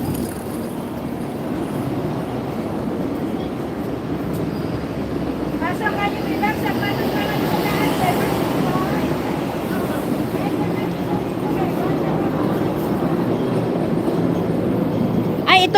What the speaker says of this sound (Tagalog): Ay, ito pala yung train dito. Mabagal na ano. Itawag po namin dyan is tram.